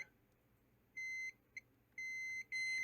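Multimeter continuity beeper sounding while probing the pins of a Game Gear handheld under repair, a thin high tone in three short bursts, one brief blip and a final tone starting at the end, fairly faint with no talk.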